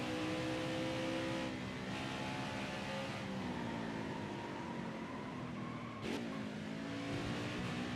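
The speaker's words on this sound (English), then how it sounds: "See, that downshift really turns the car." A race truck engine in NASCAR Heat 5 drops through a downshift, its steady drone stepping in pitch while the revs shift across a continuous close-up roar.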